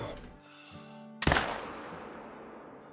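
A single loud rifle shot cracks in the hunting game Call of the Wild, a sharp close blast that rings out and decays after a soft musical tone and quiet background.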